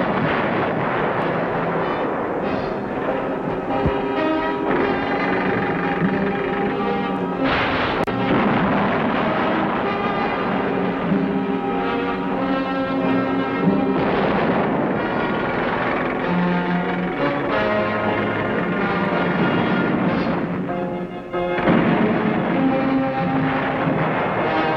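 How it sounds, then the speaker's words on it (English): World War II artillery fire during the Battle of Peleliu, with sustained heavy booming and rumble mixed with engine-like drone over a long stretch, loud and dense throughout. "artillery."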